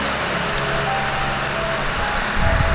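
Heavy rain falls at three in the morning while someone waits for a boat near the Sabah–North Kalimantan crossing. It makes a steady, dense hiss with no pauses and a faint low rumble underneath, and no one speaks.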